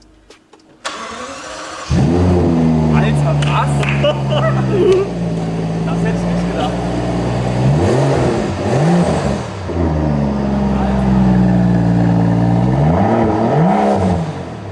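A Rolls-Royce twelve-cylinder engine cranks and fires up at about two seconds, then settles into a loud, steady idle with a few throttle blips and revs, while people talk and laugh over it in the car.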